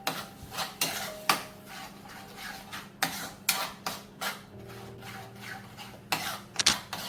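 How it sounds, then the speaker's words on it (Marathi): Spinach puree being stirred into roasted gram flour in a kadhai for lasooni palak: irregular metallic scrapes and clanks of a spoon against the pan, fairly quiet and close, with no talk. "पालकाची प्युरी टाकली की ती व्यवस्थित परत मिक्स करून घ्यायची आहे"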